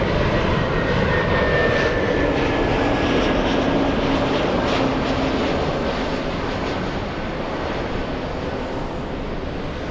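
A Delta airliner, the flight from Miami, arrives to land at Los Angeles International Airport: a loud, continuous jet engine roar with a faint whining tone fills the whole stretch, steady and close, fading slightly toward the end.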